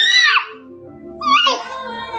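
A young boy lets out two sharp, high-pitched screams, the first brief and the second longer and wavering, close to the microphone with a short quiet gap between them.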